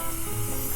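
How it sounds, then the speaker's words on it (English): Butter-flavored cooking spray hisses steadily onto a baking sheet for a coffee cake, a single close, continuous aerosol burst with no talking. "I'm gonna go ahead and spray my baking sheet here with some butter spray."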